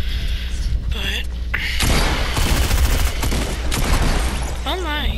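Fortnite gunfire in Blitz mode, dense rapid bursts of automatic rifle shots packed together across the middle of the clip, loud and close, with a voice talking over it and game sound effects at either end.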